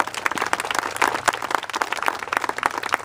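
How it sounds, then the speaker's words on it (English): An audience applauding a state representative at a reopening ceremony at the Big House, Malabar Farm State Park: sustained, moderately loud clapping from many hands with a slightly uneven crackle. "let's give the representative a round of applause"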